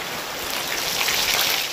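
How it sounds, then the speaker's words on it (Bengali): Rain falling outdoors at a cooking spot where fish is being fried on banana leaves, a steady, even hiss of drops with no talk over it. "আবার বৃষ্টি নেমে গেল।"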